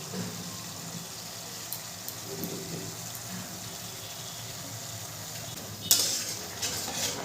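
A spoon stirs cashew and poppy seed paste into frying masala for dhokar dalna, a soft continuous scraping and sizzle close up, ending with a brief metallic clink against the pan.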